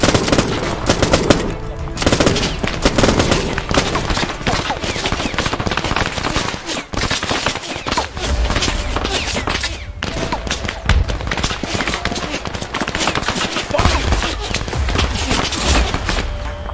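Sustained automatic gunfire from a WWII-era setting in Arma 3 rattles in dense, loud bursts with heavy low thumps, continuing almost without pause, with faint voices underneath.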